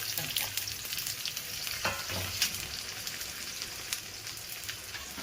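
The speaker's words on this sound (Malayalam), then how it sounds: "ആ കൂട്ടത്തിൽ തന്നെ നമ്മുടെ ആ ഉള്ളിയും കൂടെ ഒന്ന് ഇട്ട് വറവ്." Onions fry in hot oil in a pan with a steady, dense sizzle throughout, broken now and then by soft stirring clatters, close and fairly loud.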